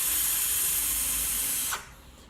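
A loud vape draw through an AURA RDA atomizer makes a strong, steady airy hiss close up that holds for almost two seconds, then cuts off sharply and leaves a faint residual rush.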